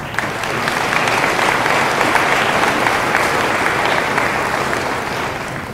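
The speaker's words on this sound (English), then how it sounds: "Please give them a round of applause" Sustained applause from a large crowd at a community college commencement, steady and loud throughout, with dense overlapping claps and no pauses.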